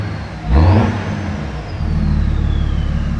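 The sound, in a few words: BMW 335d diesel engine revving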